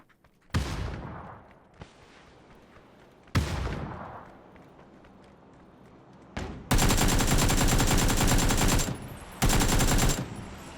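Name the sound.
gunfire in the video game PUBG on Erangel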